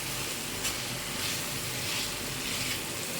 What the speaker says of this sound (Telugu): టమాటాని ఇట్లా స్మాష్ చేసుకుంటూ కలుపుకోవాలి